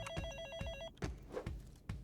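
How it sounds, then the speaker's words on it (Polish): A telephone rings in the video game Hi-Fi Rush, a quick electronic ring burst followed by a brief gap, with soft thumping footstep-like beats underneath, fairly quiet. "Telefon? To coś nowego."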